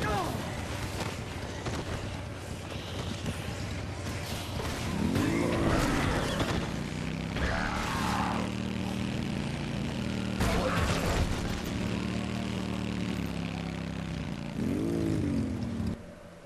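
A motorbike engine in the video game Dead Rising, revving and droning continuously as it rides through the Wonder Plaza mall, with pitch swells as the throttle rises and falls, plus a few skids and bumps along the way.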